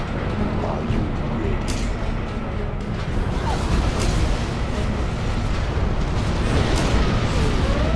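Dense, continuous rumbling booms and crashing blasts from Scud Storm missile strikes in the real-time strategy game Command & Conquer Generals Zero Hour, loud and sustained with no pauses.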